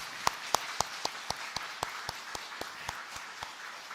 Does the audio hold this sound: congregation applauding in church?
yes